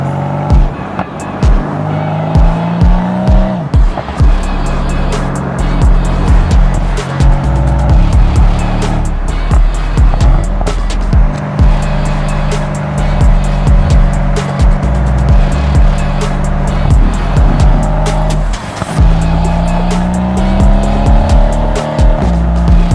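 Mercedes C63 AMG driven hard through tight corners, engine roaring loud and close as it revs up and down through the gears, with repeated sharp shift cracks and tire noise throughout, no voices over it.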